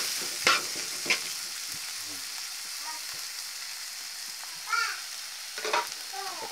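Cassava leaves stir-frying in a pan, with a steady soft sizzle broken by a few spatula scrapes and clinks, moderately quiet and near.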